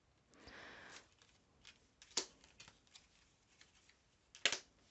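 Oracle cards being shuffled by hand, a soft riffling burst followed by a few sharper card snaps and taps, close and quiet with no talking.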